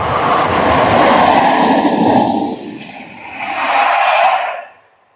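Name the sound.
metro train passing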